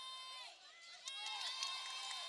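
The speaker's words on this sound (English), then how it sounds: "And that is a Bella Vista cheering section right behind us" Bella Vista Prep's cheering section at a high school basketball championship game against SPIRE Academy, a steady roar of crowd noise with sharp squeaks and swelling cheers, with voices mixed in throughout.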